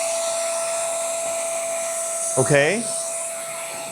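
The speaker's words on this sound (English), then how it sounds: "I'm going to trigger the vacuum cleaner." The built-in vacuum of an Excalibur II hair clipper hums steadily and loudly throughout, a constant whirring motor tone, with a brief spoken word partway through.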